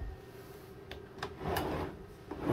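A full-size chart drawer at the navigation station of an 80-foot Chuck Paine yacht slides and clicks. A few sharp knocks are followed by a louder rolling thump as it shuts, all fairly close in a quiet cabin.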